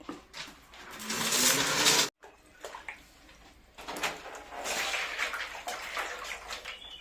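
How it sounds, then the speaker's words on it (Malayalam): Rubber latex poured from a mug into dishes, about two litres per dish, giving a sustained liquid pouring rush, a sudden stop, then further softer pours and splashes with small handling knocks. "ഒരു മഗ് വീതമാണ് ബാബുച്ചേട്ട ഒഴിക്കുന്നത് രണ്ട് ലിറ്റർ വീതമാണ് ഒരു ഡിഷില് ഒഴിക്കുന്നത്"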